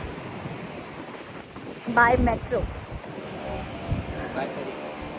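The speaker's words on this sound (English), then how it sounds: "It's super windy and sunny today." Steady wind noise rumbles across the microphone throughout on a windy, sunny day in Istanbul, with brief speech in the middle.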